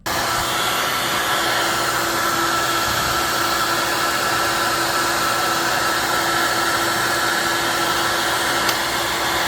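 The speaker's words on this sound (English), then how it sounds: "I'm going to go get a hairdryer, and I'm going to dry these out a little bit" A hair dryer blows loudly and continuously at a constant, steady whoosh, drying parts of a Traxxas TRX3.3 nitro engine, close by, with no voices.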